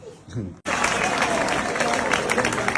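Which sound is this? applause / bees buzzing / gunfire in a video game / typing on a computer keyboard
applause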